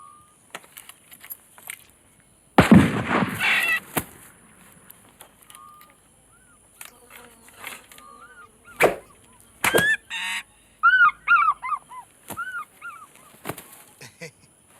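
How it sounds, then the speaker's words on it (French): A bird calls in a scene from the 1991 film Robinson and Company: a quick run of bright, repeated chirps comes late, after scattered clattering and rustling noises, with no voices over it. "Avec le fusil, Robinson va tuer l'oiseau."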